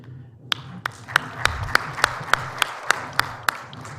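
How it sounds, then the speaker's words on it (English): A small audience at a morning health survey dissemination meeting gives sparse applause, a dozen distinct, evenly spaced claps standing out over faint room murmur. "Once again, a round of applause for our presenters this morning."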